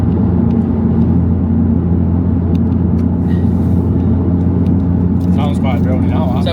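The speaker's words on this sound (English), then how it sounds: "Sounds quite drony now." Custom valved exhaust on a 400bhp Audi S3 8V droning steadily at about 73 mph cruise uphill, a loud constant low rumble filling the cabin with no talk.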